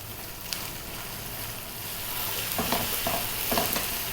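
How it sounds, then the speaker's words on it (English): Chicken wings and sauce worked around a hot pan, a loud continuous sizzle with a few scraping stirs toward the end. "We're going to work this in again for about 4 minutes, stirring pretty much all of the time now."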